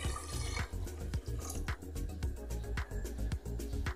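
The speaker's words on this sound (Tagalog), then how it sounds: "Tapos lagyan natin ng tubig." Water is poured into a cooking pot for a native chicken tinola with papaya, a splashing, trickling stream with scattered drips and knocks, close and continuous for a few seconds without talk.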